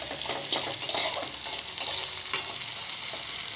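Onions frying in oil with hing for a ghee-rich Bengali dish, a continuous close sizzle broken by several sharp scraping stirs of a spoon against the pan.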